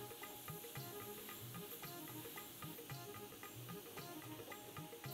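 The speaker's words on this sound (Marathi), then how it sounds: "त्याच्यात 2 कांदे बारीक कापलेले आपण परतून घेऊया." Two finely chopped onions fry in about two tablespoons of oil for a Saoji paneer masala, giving a steady, close hiss and crackle of sizzling with soft stirring scrapes and no talk.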